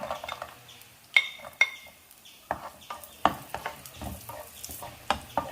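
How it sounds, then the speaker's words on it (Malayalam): Cashew nuts and raisins frying in hot ghee crackle softly in a pan under repeated sharp metal clinks and scrapes of a stirring spoon, close and fairly quiet. "നെയ്യ് നന്നായിട്ട് ചൂടായിട്ടുണ്ട്. അതിലേക്ക് കാഷ്യൂ നട്ട് ഇട്ട് കൊടുക്കാം."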